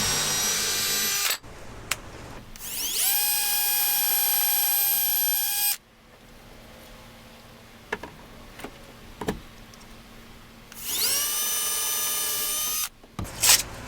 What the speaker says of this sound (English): So this is pretty typical for how I'll drill these scales.